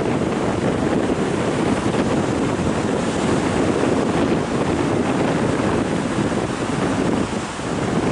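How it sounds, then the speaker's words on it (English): Sea waves surge and break continuously against rocks at a beach near Ratnagiri, a steady loud roar of surf with wind buffeting the microphone throughout. "There you can see the waves dashing against the rock and the spray"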